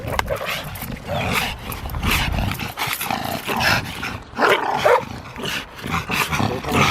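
Belgian Malinois dogs bark and yip repeatedly during sport training outdoors, loud and close, in irregular bursts with some growling and background commotion.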